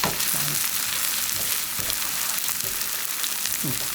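Aged pumpkin pancake batter frying in oil in a pan, giving a steady close sizzle and crackle that runs unbroken throughout, with a few faint clinks of a utensil against the pan.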